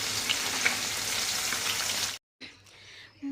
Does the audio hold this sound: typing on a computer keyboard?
no